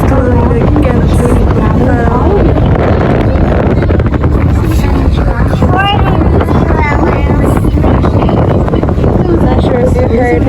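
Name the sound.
strong wind on boat during whale watching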